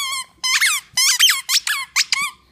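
A rat terrier chews a squeaky toy, producing a run of about seven loud, high-pitched squeaks in quick bursts, close up and with no talking.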